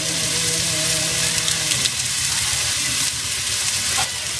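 Turmeric and green chillies fry in a pan with onion and garlic, a loud, steady, close sizzle with soft stirring scrapes, a faint tonal hum fading out early.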